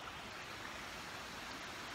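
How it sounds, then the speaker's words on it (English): A river near a home in the south of France, swollen by a week of rain and rushing down from the hills, gives a steady, faint broadband wash of flowing water with no voices. "You can hear the river behind me."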